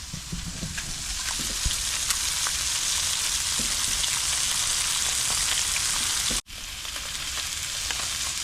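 Mangrove snapper, lightly seasoned, frying in a new cast iron pan: a dense, loud, continuous sizzle with faint crackles and pops, broken by one very brief gap, no voices.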